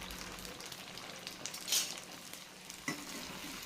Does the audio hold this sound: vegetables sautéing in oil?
yes